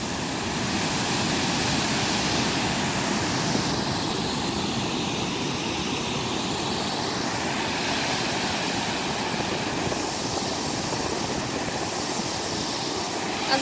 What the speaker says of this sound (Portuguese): Não sei dizer o nome desse rio, mas ele está bem alto.